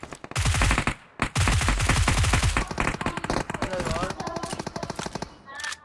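Rapid automatic gunfire in the battle royale game PUBG Mobile, loud bursts of shots with a brief gap, then scattered shots continuing while players talk over it.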